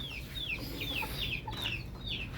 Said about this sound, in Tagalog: So ito yung mga hens namin